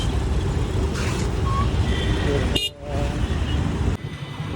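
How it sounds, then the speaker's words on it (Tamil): Road traffic heard from a Bajaj Platina 100cc motorcycle on a long ride in Tamil Nadu, with steady engine and road noise, car horns tooting briefly, and a sharp short honk near the middle; a voice speaks under the traffic. "டிராஃபிக் இங்கேருந்தே ஸ்டார்ட் ஆகுதுங்க"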